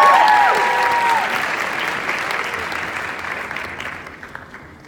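Audience applause welcoming a speaker to the stage at a school assembly, a dense wash of clapping that starts strong and slowly tapers off over several seconds.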